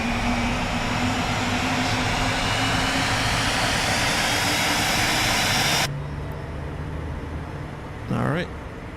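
A Phenom 300E jet engine in MSFS 2024 runs with a loud, steady roaring whine that drops suddenly to a quieter hum, and a voice is heard under the drone.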